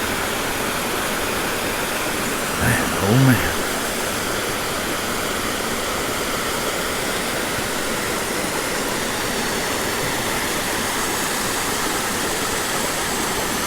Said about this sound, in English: Love the sound of the water from a waterfall.